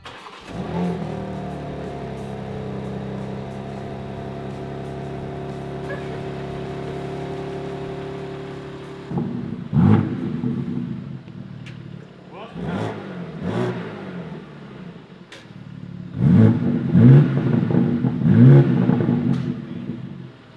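BMW M2 G87 engine on factory exhaust after a lowering-spring install, idling steadily at first and then revving in several loud blips, with people talking nearby.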